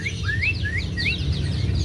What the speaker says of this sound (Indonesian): Ini sebentar lagi bunyi nih Pak Giri, burungnya ini